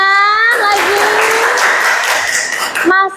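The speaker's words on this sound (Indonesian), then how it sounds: "Boleh tepuk tangan lagi." Classroom students clap briefly and loosely between a teacher's spoken remarks, with talking heard before and after the burst of applause.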